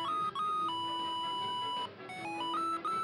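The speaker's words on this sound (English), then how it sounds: "It makes this ringing sound." A telephone rings with electronic beeping tones that hop between a few pitches in a repeating pattern. The ringing is steady, clear and fairly close, with brief gaps between phrases.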